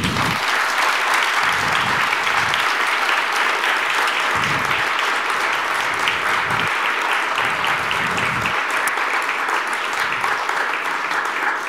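Sustained applause from a large audience at a memorial gala, loud and dense clapping filling the hall steadily for the whole stretch with no break.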